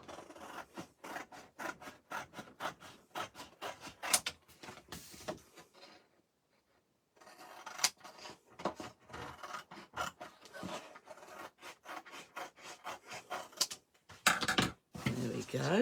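Trimming the end off a card while making card bank storage. Rapid repeated rasping snips and rubs continue throughout, with a short quiet pause midway and some louder clicks near the end.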